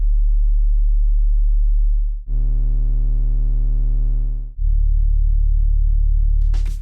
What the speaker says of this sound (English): I take the best of both worlds by adding some harmonics to a simple sine wave.